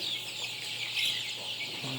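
Sonali chickens and roosters clucking together in a close, continuous flock chatter with overlapping calls and no talking.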